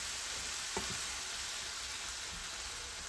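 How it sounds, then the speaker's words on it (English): A shrimp filling in a pan sizzling softly and steadily, with a couple of faint scraping stirs from a utensil early on. It is fairly quiet, close and has no talking. "Going to stir it all up."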